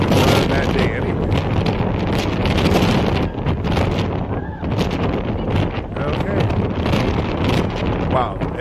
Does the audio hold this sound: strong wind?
yes